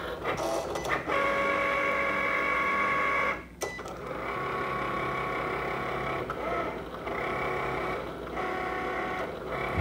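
A Cricut cutting machine slices an airbrush stencil, giving a steady mechanical whir and hum with tonal motor whines that stop and restart partway through, close and continuous.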